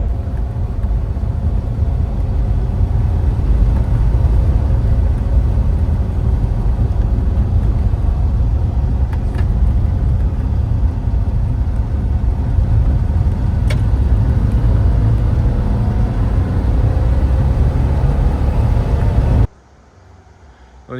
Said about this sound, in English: we'll get up around this corner and I'll park it